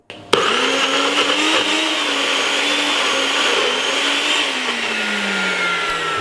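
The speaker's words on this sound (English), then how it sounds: "I'm going to blend it." A blender whirs steadily as it purées broccoli, potatoes and a little cabbage, starting abruptly with a loud motor surge and holding a continuous close-up drone with slight pitch shifts, no talking over it.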